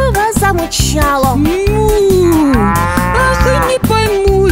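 A cartoon cow's drawn-out moo, likely sung by a voice imitating the animal, rises and falls over a loud, bouncy farm-song accompaniment with a steady beat.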